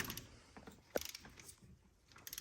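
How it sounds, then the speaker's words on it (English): Torque wrench tightening cylinder head bolts on a 2010-2015 Toyota Prius during a head gasket replacement, giving one sharp click near the middle amid faint metallic ratcheting and handling noise. "if you haven't used a torque wrench, you set it to 36 and then you keep going until you hear a click"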